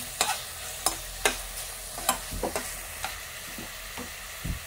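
Onion hits a hot pan and fries with a continuous sizzle, broken by repeated sharp scrapes and taps of a spoon stirring, close and fairly quiet with no voices.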